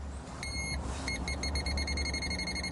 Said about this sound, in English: When that beeps, Bill, that means there's electricity flowin